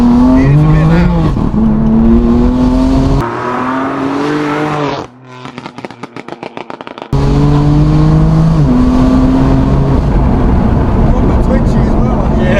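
A BMW M4 CS rated at 650 bhp revs loudly up close, its engine rising and falling in sharp, aggressive pitch sweeps, then cutting to a brief crackling pop burst before revving hard again.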